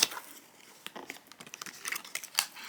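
Packaging of an Instax Mini 12 instant camera box is torn open, giving close, irregular bursts of crinkling and ripping paper and cardboard in short, uneven strokes, with no voice.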